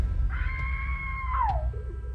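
A woman screams loudly for help outside, one drawn-out, steady cry that drops sharply in pitch as it ends, over a low background rumble.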